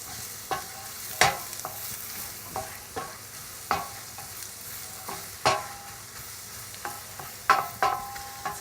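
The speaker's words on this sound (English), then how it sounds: "So, give those a stir." Finely chopped onions sizzle in a pan while being stirred, a steady low fry broken by regular scraping strokes about every half second to second, close and clear with no voices.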